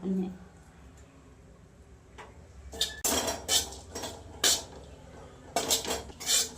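A spatula scrapes and clatters against a pan as coconut is dry-roasted. Several sharp bursts of metallic stirring come in quick succession over a quiet background.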